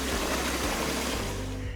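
A toilet flush rushes as a steady broadband wash of water, loud and close, gradually thinning toward the end.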